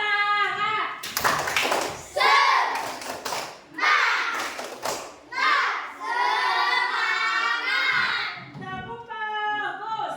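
A class of primary schoolchildren performs a rhythmic clapping chant, bursts of unison claps alternating with loud sung and shouted chanting voices in a classroom.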